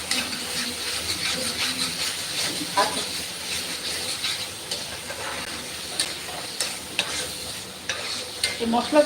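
Spice paste sizzles and hisses in a hot pan while a spoon stirs and scrapes it, a continuous frying sound with occasional knocks, up close in a home kitchen.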